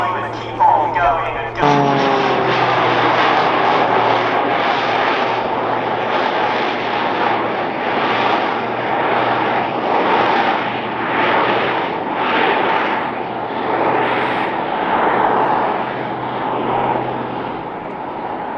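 A Jet Pitts S2S aerobatic biplane flying at an airshow, its roaring engine loud and continuous throughout, with an announcer talking over it.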